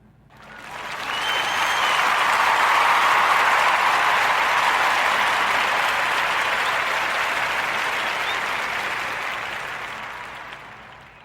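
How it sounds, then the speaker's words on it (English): A warm round of applause from a podcast audience for a guest, Miss Rachel Rogers, swelling quickly into dense, sustained clapping that holds loud before slowly tapering off. "give our sister, Miss Rachel Rogers, a warm narrative podcast round of applause"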